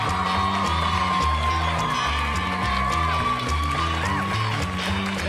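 Comedy club crowd at a stand-up show cheering, whooping and clapping continuously with loud energetic noise over a thumping music bed, no break throughout.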